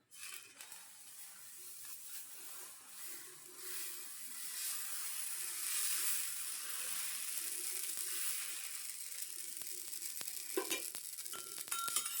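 Oats and urad dal dosa batter sizzles on a hot pan, a quiet, steady frying hiss that slowly swells, with a few faint clicks and scrapes toward the end and no voices.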